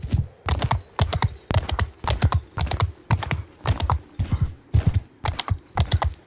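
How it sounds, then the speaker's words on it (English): Rapid, regular hoofbeats of a galloping desert horse in Mount and Blade II: Bannerlord, loud and close, pounding in a steady rhythm with no other sounds. "This desert horse is so much faster."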